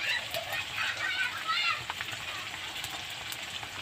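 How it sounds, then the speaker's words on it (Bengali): Pangas fish curry masala with turmeric, chili and salt sautéing in a pan, giving a steady, close hiss and sizzle with faint stirring scrapes, a voice talking over it at times. "এবার আমি একসঙ্গে ভালো করে কষিয়ে নেব আবারও"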